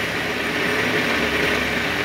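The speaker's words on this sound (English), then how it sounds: "with a through coolant drill, we go straight through the casing and out the other side" A through-coolant drill bores through 27mm-thick engine casing, a steady, loud machining whir with broad hiss and a low hum, continuous and unbroken, with no voices.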